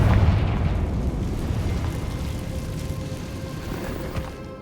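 A Confringo spell explosion in Hogwarts Legacy: a loud, deep boom at the start that rumbles and decays slowly over several seconds, with no voices.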